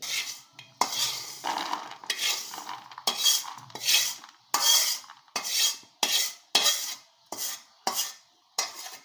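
Roasted spicy masala peanuts are scraped from a pan onto a plate, with loud, rhythmic metallic scoops and rattling nuts repeating in short bursts about every half second, close up and without talk.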